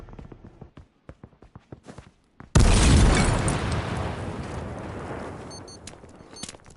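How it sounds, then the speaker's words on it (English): A grenade going off in H1Z1 at close range: a few sharp game clicks and taps lead into one sudden loud blast that rumbles and fades slowly over several seconds. "Oh, I threw a grenade at myself."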